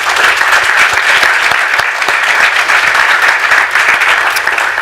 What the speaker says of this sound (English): I'd just like one round of applause for everybody that's been involved in our program